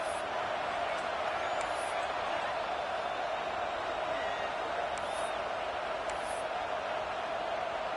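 Steady stadium crowd roar from a college football video game, Utah versus FSU, a constant broad wash of noise throughout with a few faint high whistles or shouts poking through.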